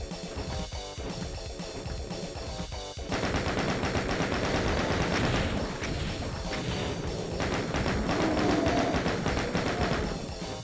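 Sustained rapid gunfire from chaingunners in the video game DOOM: The Plutonia Experiment, a loud, continuous rattling burst that grows denser partway through and runs for the whole stretch with no talk.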